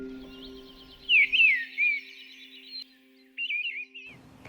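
Winter birdsong on the UK coast: a single bird gives a few short, clear warbling phrases, then pauses and sings one more brief phrase. A low steady hum runs underneath.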